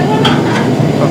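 Urad dal and chana dal frying in hot oil for sambar, a steady close sizzle with light stirring scrapes throughout.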